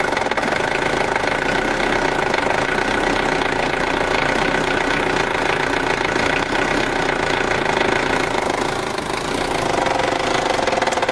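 A Ford Ranger engine runs loud and close, holding steady revs for the whole stretch with a rough, knocking mechanical tone and constant vibration.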